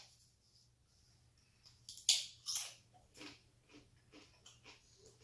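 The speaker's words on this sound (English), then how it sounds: "so you can hear the crunch" Matzah cracker being bitten and crunched, a couple of sharp, close crunches followed by softer chewing crackles over a quiet background.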